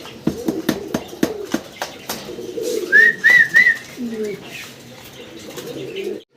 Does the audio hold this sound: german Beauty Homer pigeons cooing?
yes